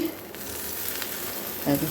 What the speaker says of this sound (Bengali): দুটো পিঠ ভাজা হয়ে গেল